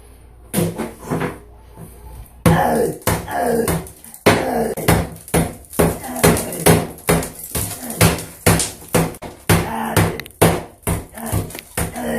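Repeated sharp hammer blows strike and break open a wall, landing in an irregular rhythm of loud, close impacts with crumbling, knocking debris between hits.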